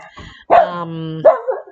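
A dog barks a few times up close, sharp harmonic yips and a drawn-out bark standing alone with no talk.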